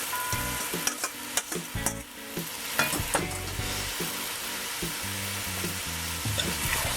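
Corn and pumpkin being stirred into a pot of Trinidadian pigtail pelau, with a steady run of scraping, clunking spoon strokes over a continuous sizzle, loud and close, no talking.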